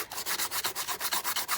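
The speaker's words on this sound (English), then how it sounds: "I'm just sanding off where that piece was overhanging." Paper is sanded by hand where an overhanging piece sticks out on a Victorian-themed Christmas junk journal, with about a dozen quick, even back-and-forth rasping strokes, close and fairly loud.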